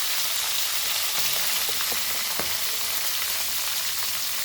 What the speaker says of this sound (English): Fry this nicely.